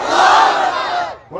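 A large crowd at a Bangladeshi religious gathering roars a loud takbir chant in unison, one sustained shout that swells and then fades over about a second.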